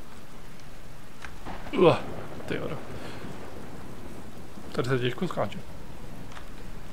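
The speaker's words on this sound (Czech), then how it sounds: "my jsme ve středu bouře" Steady rain and rumbling thunder from a storm in the video game Outer Wilds run as a constant wash beneath someone talking in two short bursts.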